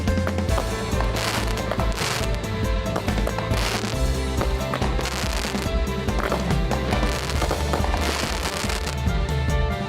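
Fourth of July fireworks and firecrackers going off in Detroit, a dense run of sharp cracks and pops, some rapid like strings of crackers, loud and continuous with faint background noise.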